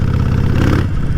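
A Harley-Davidson Nightster 1200 motorcycle engine runs loud and close, a steady deep rumbling throb with no break.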